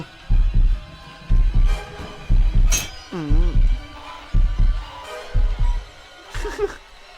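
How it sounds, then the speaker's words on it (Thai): Heartbeat sound effect from the Roblox game Violence District: steady, deep double thumps repeat in a regular rhythm for several seconds, with a voice talking intermittently over them. "ลืมไปเสียงหัวใจก็มี"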